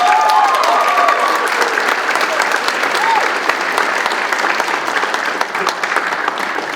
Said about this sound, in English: I want to have a round of applause for them before we start